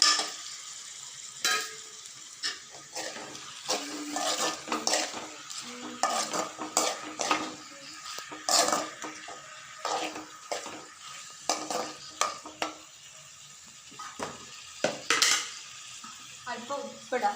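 Cleaned prawns fry in a hot pan while a utensil stirs them, with repeated scraping strokes and clinks of metal against the pan over a steady sizzle, close and fairly loud.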